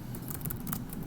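Computer keyboard typing while text is entered for a Python Dungeons and Dragons dice-roller app, a steady patter of soft, close key clicks running throughout the short stretch.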